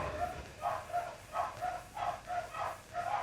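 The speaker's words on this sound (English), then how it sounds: "Dogs are barking." A dog barks repeatedly in a steady rhythm, about two barks per second, at a moderate distance with no other sounds over it.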